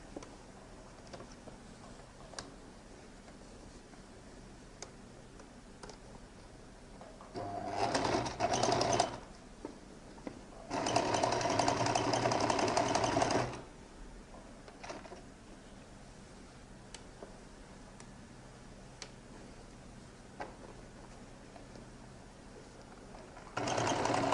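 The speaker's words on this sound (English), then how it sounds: "So I'm going to top stitch on the main body here up to that slash there." Sewing machine top stitching the main body of a lady's jacket near the lining, two bursts of steady rapid stitching, the second longer, heard close over a quiet room.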